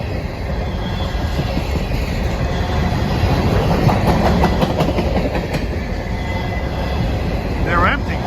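A former Conrail SD40-2 locomotive, number 8801, rumbles past hauling empty cars, a loud close roar with rhythmic clickety-clack of wheels over rail joints and a brief metallic squeal near the end.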